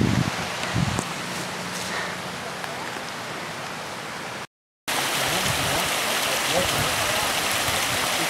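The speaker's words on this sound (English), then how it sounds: "Crossing another river here in a gap." A river rushes steadily through a gap on a cold winter backpacking hike, with ice on the ground and near-freezing water, a dense continuous broadband wash, close and loud, with a brief cut midway.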